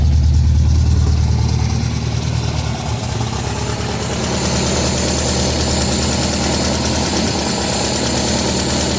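A 1972 MGB car engine idling steadily up close, a continuous low rumble with a slight shift in tone a few seconds in.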